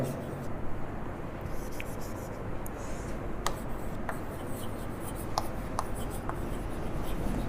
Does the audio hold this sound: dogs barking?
no